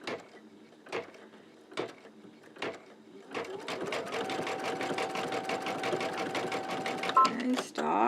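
An embroidery machine stitching a chenille shamrock for a pillow starts with a few separate thumps, then runs into a fast steady mechanical needle chatter, close and continuous, with a voice speaking over it.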